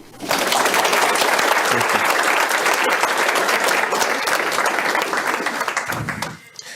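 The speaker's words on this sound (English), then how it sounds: "let's give a big round of applause for Dr. Tour" A large audience gives a long, loud round of applause as Dr. Tour is welcomed for a talk on abiogenesis and the origin of life, dense steady clapping that tapers off near the end.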